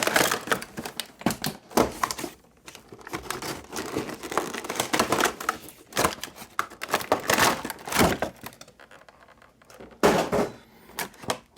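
Plastic toy packaging of Star Wars micro ships being cut open, with irregular crinkling, snipping and tearing sounds that come in close, uneven bursts and pauses.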